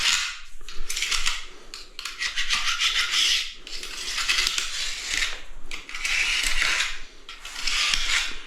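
A knife scrapes still-green glue out of a joint, giving repeated close, harsh rasping strokes in bursts separated by brief pauses.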